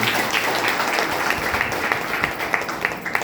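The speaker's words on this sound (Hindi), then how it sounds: "तालियां बजाइए" Applause from an audience at a stress-relief gathering, dense continuous clapping at a fairly loud, even level for a few seconds with a few sharper claps standing out near the end.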